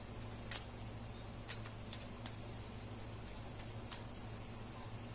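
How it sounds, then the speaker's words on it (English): Tarot cards being shuffled, faint riffling bursts spaced out over a quiet low hum, soft and close with no talking. "let's pull these cards up from the Leo reading, and we will shuffle these a couple more times"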